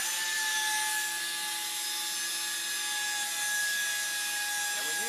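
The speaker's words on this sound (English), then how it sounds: "this machine has a turning front polishing wheel, and it actually polishes the surface and it removes all those chips" A granite countertop edge-polishing machine runs steadily with its turning front polishing wheel, a continuous whining grind with steady tonal hums, loud and unbroken, with no talk.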